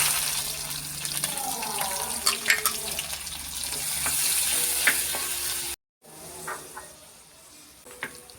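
Prawns frying in hot oil for a prawn pickle give off a continuous bubbling sizzle close by, with occasional scrapes and clinks of a spoon, a brief cut to silence, then the frying carries on.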